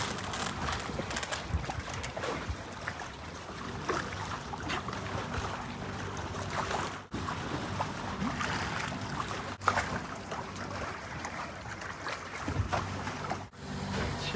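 A sailboat motoring under engine on the open sea in light wind off Colombia, a steady low engine drone mixed with rushing water and wind buffeting the microphone, loud and continuous throughout.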